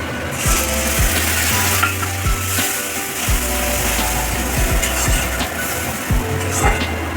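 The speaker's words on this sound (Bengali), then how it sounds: "এবারে দিয়ে দেবো এই যে রসুন, আদা, কাঁচা লঙ্কা, টমেটোর পেস্টটা" Garlic, ginger, green chilli and tomato paste hitting browned onions frying in a pan for a Bengali katla fish curry: a loud, steady sizzle with scraping stirs and clatters, mostly alone.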